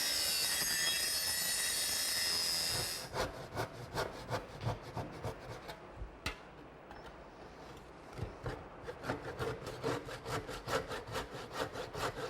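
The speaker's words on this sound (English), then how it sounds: "I'm going to make all the cuts with my circular saw" Circular saw cutting a wooden brace laid out on a 2x8 for a pergola, starting with a steady loud whine for about three seconds, then rapid rasping strokes of the blade through the board continuing to the end.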